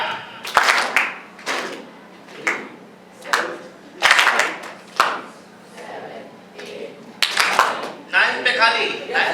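A group of students at a tabla workshop claps the taali beats of a tabla rhythm cycle, sharp irregularly spaced claps in a steady pattern, with brief pauses between and a quick flurry at the end.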